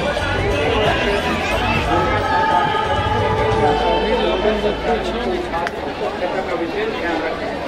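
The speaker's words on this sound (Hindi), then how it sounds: "बहुत ज़्यादा भीड़ है।" Devotees crowding the main Hindu temple on a Sawan Monday, a continuous loud hubbub of chatter and movement, with someone nearby talking throughout.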